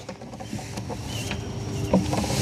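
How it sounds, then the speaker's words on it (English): Portable Jackery solar panels being folded up, giving a few soft mechanical clicks and rustling knocks at close range, with a slightly louder clack near the end and no talking. "the easy folding capabilities of the panels"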